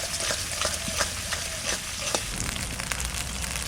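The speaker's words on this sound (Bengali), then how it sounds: "আস্তে আস্তে জাল দিয়ে মশলাটাকে ভালো করে কষিয়ে নেব।" A paste of onion, ginger, garlic and chilli with a little water frying in a pan over low heat, a steady soft sizzle broken by repeated scraping stirs of the spoon, with no talking.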